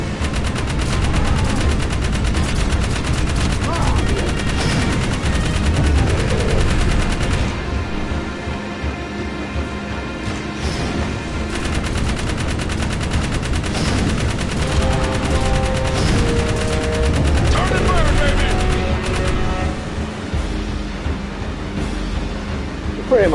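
Rapid gunfire from shooting enemies in the video game Jak 3, dense and continuous bursts layered over game music and effects for the whole stretch, loud and close.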